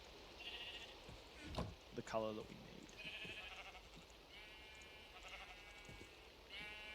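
Blocky sheep in Minecraft bleat in short wavering calls, several spaced across the moment, while a player talks over them.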